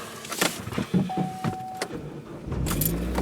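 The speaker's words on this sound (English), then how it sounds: "Car starts, so that's good." A car engine turns over on a 28-degree January morning after quiet interior rustling and clicks, then settles into a low, steady idling rumble.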